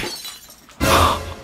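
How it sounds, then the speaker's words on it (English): A wine glass breaking: after a quiet moment, a sudden bright shatter bursts in and rings on for about half a second, loud and close. "I broke the wine glass."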